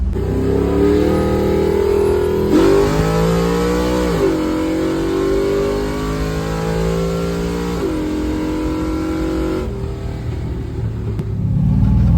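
A Chevy S10 with a 6.0 LS V8 swap pulls hard at wide open throttle, its loud, close engine drone climbing in pitch through several gear shifts as it accelerates, steady and continuous with no voices.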